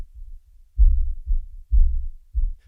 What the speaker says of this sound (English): I'll engage Submarine, and you can see all those subharmonics we just added.